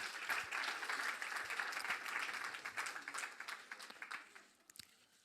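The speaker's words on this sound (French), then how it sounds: "On peut les applaudir également bien fort." Audience applause at a cooking competition, dense clapping that gradually thins into scattered claps and fades out, fairly quiet overall.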